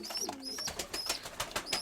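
Pigeons coo and call near a pigeon keeper's birds, a string of soft calls repeating at moderate volume, with a few thin, higher chirps scattered through.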